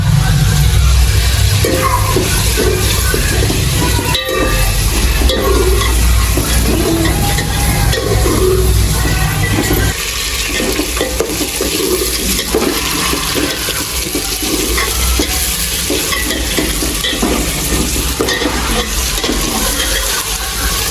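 Ginger goes into frying chicken in a pot for biryani, with a constant sizzle and scraping stirring in a busy kitchen that quiets partway through.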